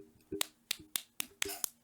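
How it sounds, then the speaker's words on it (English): A soft golf clap: six light, crisp hand claps in a loose, quick rhythm over under two seconds, close and quiet, with no talking. "Little golf clap for you"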